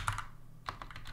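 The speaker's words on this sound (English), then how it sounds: "So I'll type Scarlet" Keystrokes on a computer keyboard while entering a name into bot software: a short burst of quick clicks, a brief pause, then another run of taps, close and fairly quiet with no talking.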